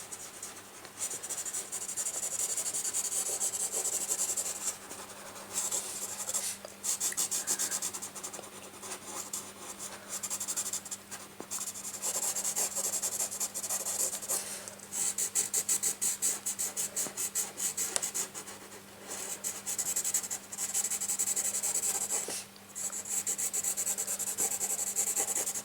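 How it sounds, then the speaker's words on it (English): Pencil shading a drawing on paper with heavy pressure, a close, scratchy rubbing in repeated back-and-forth strokes with short pauses, steady under a faint electrical hum. "I am going to increase the pressure on my pencil more than before."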